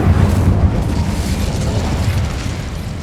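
A fiery Incendio spell blasts in Hogwarts Legacy, a loud, sustained roaring burst with heavy low rumble that holds steady for about three seconds, close and dense without any voice.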